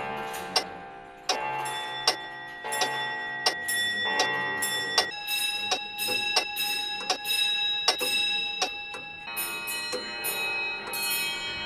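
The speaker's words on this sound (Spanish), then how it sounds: "los más de 200 relojes de pared, bolsillo, despertador o barco de diferentes siglos, cada uno con un sonido de tic-tac diferente" Many antique clocks of different centuries, wall, pocket, alarm and ship clocks, tick together in overlapping rhythms, with repeated bright chiming bell strikes ringing out over the steady mechanical ticking, close and clear with no talk.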